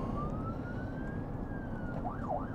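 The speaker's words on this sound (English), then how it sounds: "that's why you see us running lights and sirens to the call" A police car siren rises in a long slow wail, then switches to quick yelping sweeps, heard faintly at a distance over road noise.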